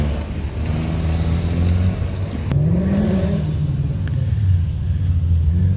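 A Porsche 944 rallycross car drives on a dirt track with a steady, fairly loud engine rumble. Its pitch rises and falls briefly as it revs midway, then settles back into a continuous drone.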